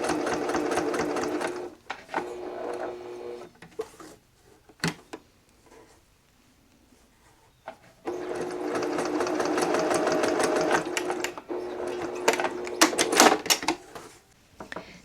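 A sewing machine stitches a small fabric bookmark in loud, close, rapid mechanical whirring bursts, first run stopping around two seconds, a pause with handling clicks, then a long second run with faster stuttering near the end.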